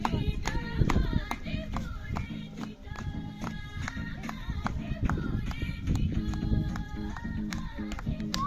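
Hands clapping in rapid rhythmic beats along with music and singing on a trek at Gothikada, the claps sharp and repeated throughout, with voices joining in.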